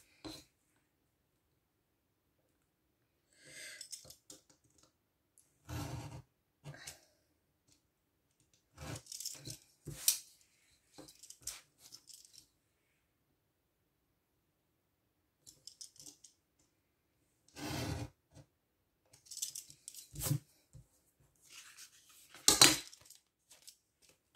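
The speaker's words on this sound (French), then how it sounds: "C'est pas la peine, je vais le faire au ciseau." Scissors snip through paper to cut out a sewing-machine shape for a craft card, a series of short crisp cuts in irregular bursts separated by quiet pauses, close and fairly soft.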